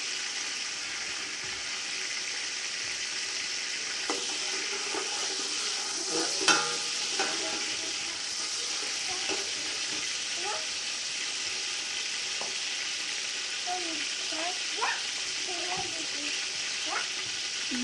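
Tomatoes go into a village-style chana pulao frying in a pot, giving a steady sizzle with scattered stirring scrapes and clinks throughout, one sharper knock in the middle.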